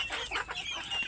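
Native country chickens clucking close by in a brief, busy burst of overlapping bird calls, with no voices.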